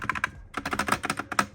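A foam-modded mechanical keyboard with pre-lubed Gateron yellow switches gives a quick run of crisp, close keystrokes, with a brief pause before a second burst of typing.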